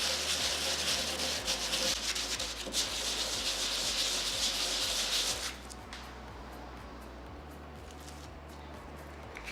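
Sharp edges of resin jewellery being sanded with circular motions make a rough rubbing scratch, loud and close at first, then stopping about halfway, leaving a quieter background.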